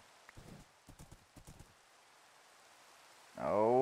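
Minecraft horse hooves clip-clopping in a few quick clusters of light taps, then a short silence and a sudden loud tonal burst at the end, with no talk.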